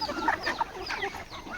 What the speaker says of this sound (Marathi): तर आपल्या ह्या कोंबड्या बघा